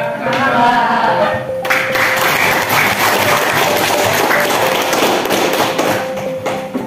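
A group applauds presenters with loud, dense clapping that swells in after a brief lead-in and holds steady to the end. A thin constant hum runs underneath.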